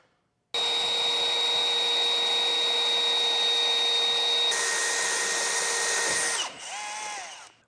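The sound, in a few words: power drill drilling holes for a roof rack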